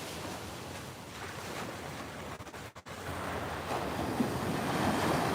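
Steady ocean waves wash onto a Florida beach, a broad continuous surf roar mixed with wind buffeting the microphone, briefly dipping before swelling again.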